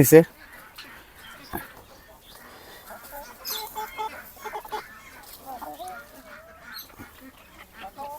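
Chickens and ducklings gathered together under a tree, clucking and quacking in a busy mix of close calls, with a person speaking over them.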